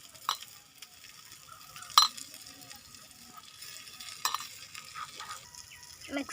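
Food frying in a small pan is stirred with a utensil, a soft sizzle running throughout, broken by a few sharp clinks and scrapes of the utensil against the pan.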